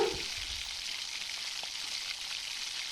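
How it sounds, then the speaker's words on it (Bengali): Pointed gourd curry mixture frying in oil, a steady close hissing sizzle after a brief stir at the start, even and moderately loud with no speech. "সব কিছুকে ভালোভাবে মিশিয়ে কিছুক্ষণের জন্য একটু কষতে দেব"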